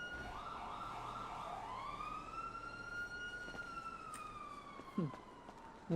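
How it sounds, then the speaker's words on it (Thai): Police car siren wailing as the vehicle draws nearer, its tone rising and holding over a faint background hum, with a brief thump near the end. "รถตำรวจกำลังมา"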